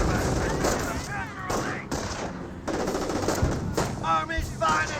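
Bursts of machine gun fire rattle through a Company of Heroes battle between Panzer Elite and US forces, loud and dense, with voices heard under the gunfire.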